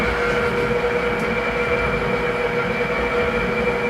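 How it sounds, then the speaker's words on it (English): A Vospeed 8.5-quart six-speed stand mixer runs steadily at its lowest speed setting, giving a continuous motor hum with a whine, close and unbroken. "You guys can hear the product definitely does work."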